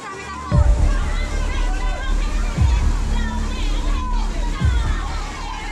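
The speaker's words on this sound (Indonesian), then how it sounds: "Beginilah detik-detik luapan air bah di lokasi wisata Sungai Berayan" Floodwater surges through the Berayan river at a tourist spot in Aceh Besar, sloshing and rushing steadily while a crowd's voices and children's shouts mix in over it.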